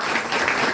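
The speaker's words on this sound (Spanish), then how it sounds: "Dale un fuerte aplauso al Señor." A church congregation's applause for the Lord gives a brief, steady wash of many hands clapping together. It is fairly loud and continuous, with no single claps standing out.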